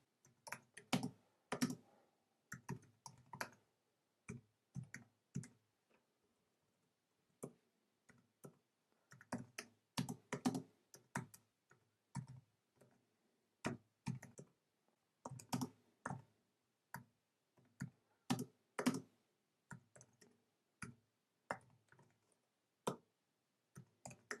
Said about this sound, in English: Let's enter a couple of strings from the keyboard